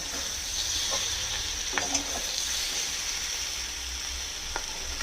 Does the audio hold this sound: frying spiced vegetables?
yes